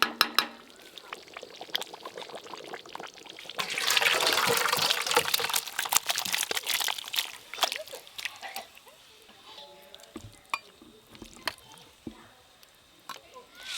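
Boiled food poured out of a cooking pot in a home kitchen, a close, gushing pour of liquid swelling midway and then tapering into scattered clinks and drips, with someone speaking at times.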